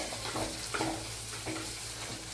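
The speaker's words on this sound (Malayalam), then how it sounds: "നമുക്കിതിലേക്ക് കട്ട് ചെയ്ത് വെച്ച പച്ചമുളക് ഇടാം" Green chillies frying in hot oil for a fish curry give a steady, close sizzle broken by a few soft stirring scrapes.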